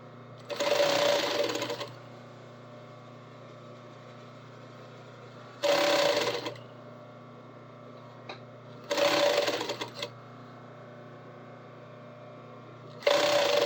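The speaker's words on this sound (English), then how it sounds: "The long straight stitch." Sewing machine running a long straight stitch in three sustained bursts of about a second each, separated by quiet pauses, close and fairly loud.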